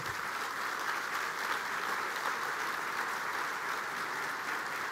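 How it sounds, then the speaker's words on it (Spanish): Steady, dense applause from an audience at a government address, sustained evenly and fairly distant for the whole stretch with no voices over it. "Yo les quiero pedir un aplauso para ellos que hoy están acompañando"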